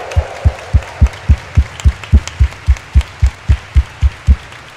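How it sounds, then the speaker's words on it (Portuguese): A congregation at a Catholic Sunday Mass claps in unison during the homily, giving applause for Jesus. About fifteen loud, evenly spaced beats come in a steady rhythm, with a faint murmur of the crowd underneath. "Dê uma salva de palmas para Jesus."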